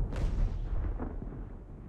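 Sailing warships exchange cannon fire in the naval battle game Ultimate Admiral: Age of Sail, a loud opening boom followed by rolling, overlapping blasts that fade into a low rumble.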